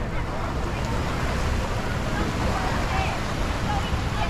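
Waves wash onto the beach in front of Bugibba Square in Malta, a continuous broadband roar mixed with wind buffeting the microphone, loud and steady throughout.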